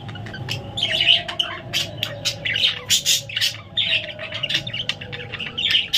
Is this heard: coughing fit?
no